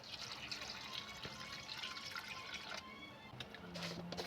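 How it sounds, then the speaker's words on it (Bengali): Water poured into a pot of boiled jute leaves, a steady close splashing and gurgling fill that runs continuously with a slight swell near the end. "এবার আমি জল দিয়ে দেব"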